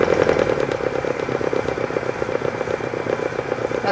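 A wood lathe spinning a 2000-year-old sequoia blank at 450 RPM gives a loud, steady mechanical drone with a rapid rattling flutter, close up and continuous, with no talking.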